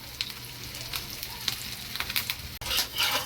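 An egg sandwich frying half-done in a pan on the stove crackles with a soft sizzle and a few light spatters, heard briefly at close range.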